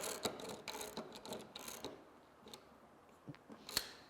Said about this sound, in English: we'll take the screw head and use the proper screwdriver, bit head, and insert it